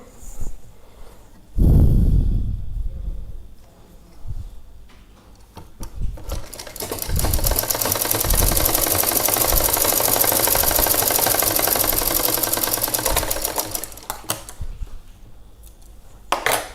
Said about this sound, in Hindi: ये हल्का पतला नाखूनी सिलाई कर रहे हैं।